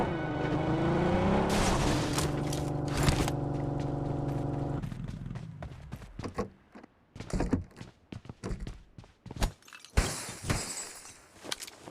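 A vehicle in the mobile shooter BGMI starts up, a loud steady engine hum with strong harmonics, followed by a sharp crash and a run of irregular thuds and impacts as it drives off, with no talk.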